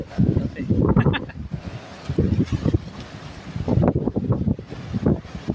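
Strong waves surge and break at Isla Verde beach in Tanza, Cavite, loud and close with gusty wind buffeting the microphone, while voices mix into the roar.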